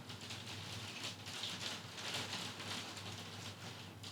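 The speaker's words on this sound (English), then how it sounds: "now it just seems like rain" Steady rain falling outdoors in English winter weather, a continuous soft hiss of drops pattering on surfaces, fairly faint and unbroken with no voices.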